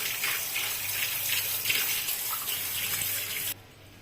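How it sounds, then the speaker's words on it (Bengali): Cold tap water gushes steadily over boiled veg chowmein noodles in a strainer, a loud, even rush that cuts off abruptly near the end. "নামিয়ে যথারীতি এটাকে আমি ঠান্ডা জলে ধুবো ভালো করে।"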